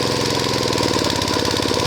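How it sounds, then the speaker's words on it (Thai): A gas-powered water pump engine running on LPG gets a little throttle, its steady close chugging with a fast knocking pulse holding loud and even throughout. "ทำการเล่นเครื่องนิดนึงก่อนนะ"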